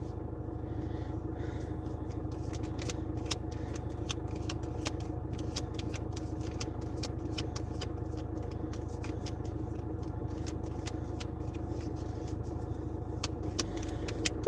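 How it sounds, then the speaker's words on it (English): A parked car's engine left idling, a steady low rumble running evenly throughout with faint scattered clicks and rattles over it, no talk. "I'm obliged to keep the car running"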